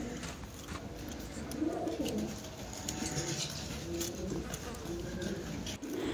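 Pigeons coo softly in a loft, low rolling calls rising and falling over a steady background murmur, with voices talking faintly nearby.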